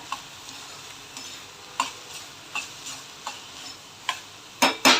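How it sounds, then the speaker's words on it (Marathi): Chopped onion and tomato with salt and turmeric sauté in a pan for spicy egg bhurji: a soft, steady sizzle runs throughout, punctuated by irregular spatula scrapes and taps, with two louder stirring strokes at the end and no talking. "थोडं असं परतवत राहायचं कांदा टॅमॅटो नरम होईपर्यंत"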